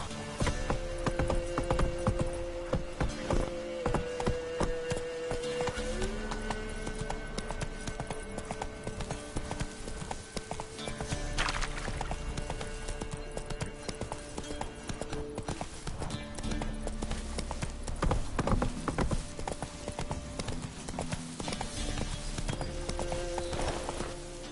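Horse hooves clip-clop steadily in a video game, a continuous trotting rhythm with occasional neighs and whinnies over a busy background.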